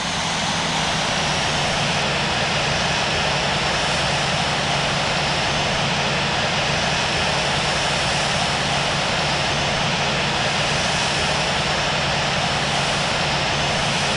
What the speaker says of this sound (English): Qantas 11 Super, line up and wait runway 34 left. Cleared for takeoff.